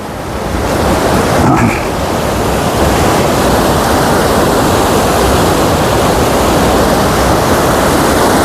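Water from the Sutlej river rushes through fully opened canal gates near Ropar, a loud, continuous roar of churning flow filling the whole scene without pause.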